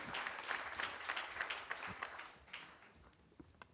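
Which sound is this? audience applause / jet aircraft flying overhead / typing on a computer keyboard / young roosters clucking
audience applause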